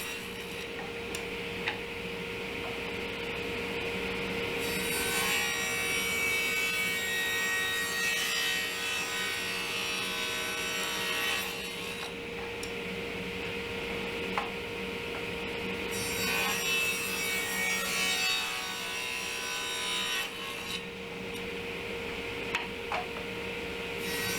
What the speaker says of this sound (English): Here I'm going to put a 45-degree bevel on one side only